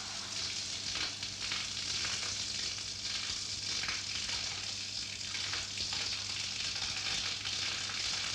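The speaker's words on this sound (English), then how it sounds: "Adding this ingredient will show the thorough mixing action of the mill." A rubber mill mixing weighed rubber compound as ingredients are added, giving a steady, dense grinding and crackling churn with a constant low hum, loud and unbroken throughout, with no voices.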